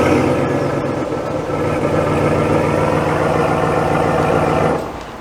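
A 2022 Ram 1500 Laramie GT pickup idles through its GT exhaust, a loud, steady, deep rumble that holds for several seconds before dropping off abruptly near the end.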